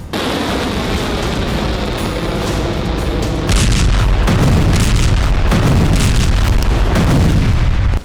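An Iranian hypersonic missile launch fills the clip with a sustained, heavy roaring rumble that grows louder and rougher about halfway through, loud and continuous with no voices.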